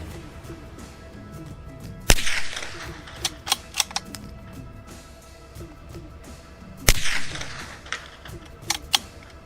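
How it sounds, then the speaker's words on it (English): Two sharp shots from a suppressed .22 LR rifle several seconds apart, each a crisp supersonic bullet crack followed by echoes rolling back from surrounding cliff walls, with scattered clicks in between. "I can hear it reflecting off of the cliff walls down there, that supersonic crack of the bullet"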